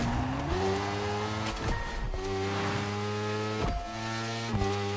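A BMW Z4 M40i roadster engine revs and climbs through gears in The Crew Motorfest racing game, with steady rising drones broken by quick shift drops, loud and close.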